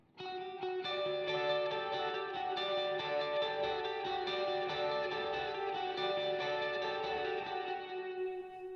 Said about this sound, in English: add in just like, a little bit of drive, that galloping delay, and then some reverb